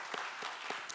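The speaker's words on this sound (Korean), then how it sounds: "우리 로아 자매 위해서 격려의 박수 한번 부탁드립니다" A church congregation at a Sunday service in Baltimore gives a short burst of encouraging applause, a brisk continuous patter of many hands with a few sharper claps standing out, heard on its own.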